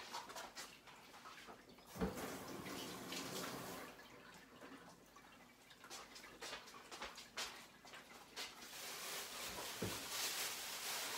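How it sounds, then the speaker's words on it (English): Hands rinsed under a running kitchen tap: a steady, soft rush of water with faint splashing and a couple of small knocks, quiet and without talk. "Rinse my hands real quick."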